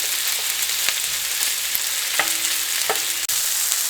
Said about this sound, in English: I'm going to throw these sausages in there. So we just going to sear this pretty much.